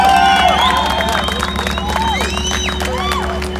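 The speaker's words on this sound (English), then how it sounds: "Crowd absolutely loving it." A crowd at a BMW M 50th anniversary car event cheers loudly and steadily, with whoops and whistles rising over the roar and voices mixed into the din.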